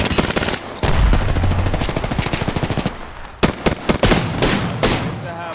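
Rapid automatic gunfire from the video game Apex Legends, loud close bursts of rattling shots with short pauses and a few sharper single cracks, with faint talk in the background.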